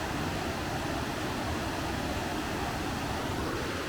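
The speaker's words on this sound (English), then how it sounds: "there's the waterfall bit at the fish pass" A waterfall at a fish pass on the River Derwent gives a constant broadband rush of falling water, steady and loud throughout with no other sounds standing out.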